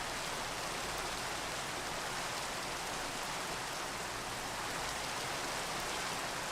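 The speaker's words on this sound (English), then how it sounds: "Get out of the rain" Steady, dense rain pours down in a video game world, a loud, even hiss of drops on surfaces that runs unbroken throughout with no voices.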